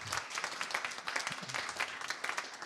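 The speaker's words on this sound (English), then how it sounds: "I think we should really give you an applause." An audience at a musical AI workshop applauds with brisk, dense clapping that holds steady for a few seconds, filling the room at a moderate level.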